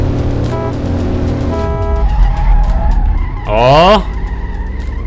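Video game car in American Lowriders revving through rising and shifting engine tones, with a squealing tyre skid and loud sweeping pitch near the end; a player briefly exclaims.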